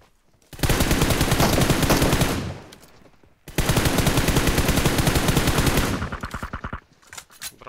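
Automatic gunfire in a video game, fired in two long sustained bursts of rapid, loud, close shots, followed by shorter scattered bursts near the end.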